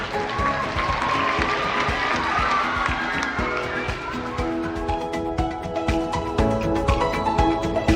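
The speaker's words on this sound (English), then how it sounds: "So let's give our guests of honor a nice little round of applause." Audience at a school board of trustees meeting applauds and cheers for guests of honor, a dense crowd din of clapping and shouts filling the room steadily for several seconds.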